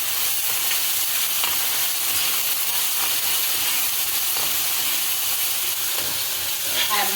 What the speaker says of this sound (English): So I'm going to add the ketchup now and let it fry